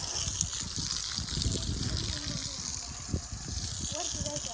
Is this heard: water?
yes